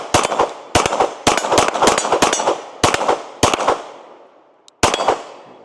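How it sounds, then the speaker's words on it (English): A Glock 34 pistol firing out its last magazine: a quick string of about a dozen loud, sharp shots, each ringing out briefly, with a short pause before the final one. "let's go ahead and fire our last mag through our 34."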